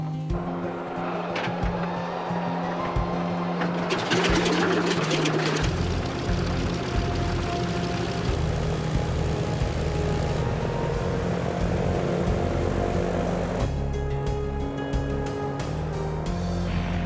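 The radial piston engines of a Canso flying boat roar and drone for a test flight, a loud continuous propeller rumble that swells midway and then settles into a steady heavy thrum.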